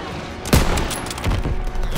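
Heavy World War II battlefield gunfire in Call of Duty: WWII at Marigny, France, 1944: a loud sharp shot burst, then ragged volleys of rifle and machine-gun fire with a continuous rumbling combat bed.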